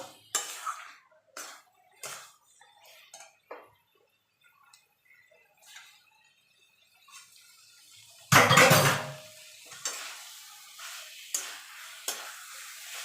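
Banana flower curry (mochar ghonto) being stirred in a pan, a spoon scraping and clinking against the metal in short strokes, with one louder burst of scraping and sizzle partway through; no one speaks.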